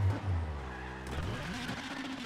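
Rally car in WRC 7 locking its rear wheels on the handbrake, a loud tire skid with engine drone sliding through a gravel or tarmac hairpin, the pitch swooping as the car rotates over about two seconds.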